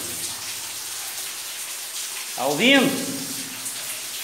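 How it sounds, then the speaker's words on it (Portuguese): Water crashes down an underground waterfall inside a cave some 30 to 50 metres below ground near Ilicínea in southern Minas Gerais, a steady close rushing roar that runs throughout while someone speaks briefly over it. "Cachoeira dentro da caverna"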